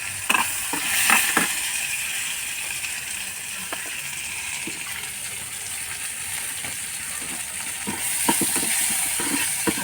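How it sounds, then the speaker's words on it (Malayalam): Sliced onions sizzle in a pan with fried fish, a close steady frying hiss broken by the scrape and clatter of stirring, which grows busier near the end, with no voices. "ആ സവോള ഈ മീൻ വറുത്ത് അതിനകത്തോട്ട് തന്നെ നമുക്ക്"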